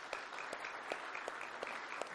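A church congregation applauds in a faint, distant, continuous patter of clapping, with a few sharper claps standing out at a regular pace.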